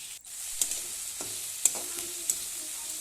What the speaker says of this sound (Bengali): যত সব মশলা আছে ওখানে সব মিক্স করছি জিরা টিরা সব